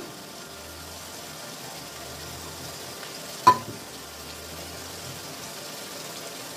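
Ginger paste frying in a pan for chili chicken makes a soft, low sizzle, broken midway by a single sharp clink of a utensil against the pan.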